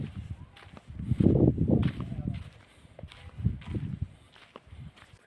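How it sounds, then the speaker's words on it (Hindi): Footsteps and wind in a deserted abandoned village, Kuldhara near Jaisalmer, with crunching steps on dry ground rising and falling among gusts, fairly close and moderately loud. "आप जरा हवा की और मेरे पैरों की आवाज सुनिएगा।"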